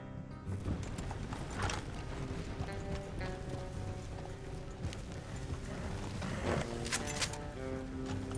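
Horse hooves clip-clop at a steady walking pace in Red Dead Redemption 2, heard over a dense bed of game music and ambience with some mechanical rattling, moderately loud throughout.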